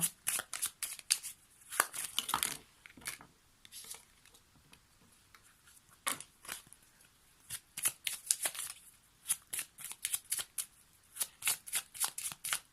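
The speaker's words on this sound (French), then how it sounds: "Pour ça, on va prendre une autre carte." Tarot cards are shuffled and drawn by hand at close range during a reading, giving soft riffling flicks and quick papery snaps. The bursts come in irregular clusters, quiet and without talk.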